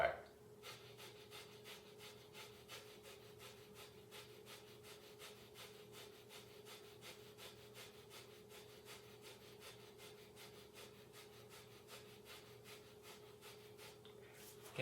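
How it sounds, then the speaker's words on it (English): Breath of fire in a kundalini kriya: rapid, rhythmic, forceful breaths through the nose, a fast even pumping of sharp huffs repeated throughout at close range and fairly quiet. "breath of fire."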